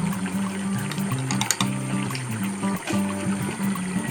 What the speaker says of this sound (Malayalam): കറി നന്നായിട്ട് തിളച്ചു